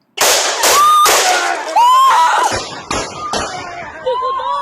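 Three gunshots in a recorded incident ring out as sharp, loud cracks in quick succession, each with a reverberant tail, mixed with shouting voices.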